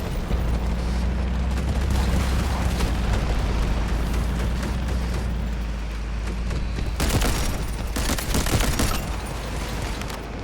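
Mini-14 rifle gunfire and explosions in the video game Delta Force, a dense continuous barrage of booms and rattling shots, loud throughout, with a burst of sharper blasts toward the end.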